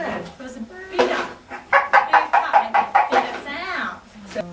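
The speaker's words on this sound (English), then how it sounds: "let's listen to this chicken" A chicken clucks in a quick series of loud, close calls, ending in a drawn-out squawk, with a voice speaking briefly around it.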